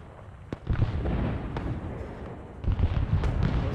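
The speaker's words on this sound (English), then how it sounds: "Sophie's firing that mortar." Mortar firing in the video game Arma 3: one sharp close pop, followed by a heavy, sustained rumbling boom that fades and then swells again with more muffled blasts.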